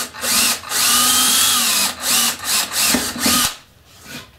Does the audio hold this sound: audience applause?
no